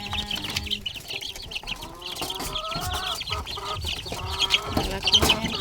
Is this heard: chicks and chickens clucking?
yes